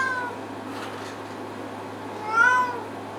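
A cat gives a single short, fairly close meow near the end, rising briefly above a low steady hum and quiet room noise.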